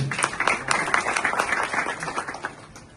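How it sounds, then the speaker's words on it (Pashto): Applause from an audience of Afghans gathered at a celebration in London, a dense, steady patter of many hands clapping at close range for several seconds, fading slightly toward the end. "دا به شمس صاحب نواب زورداره چکچکې وکړي"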